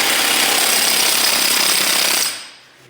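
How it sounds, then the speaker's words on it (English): Impact gun working on a Dana 44 front axle, a loud continuous rapid hammering rattle that stops abruptly near the end, leaving a faint tail. "we'll put the impact gun on this and give it a little love"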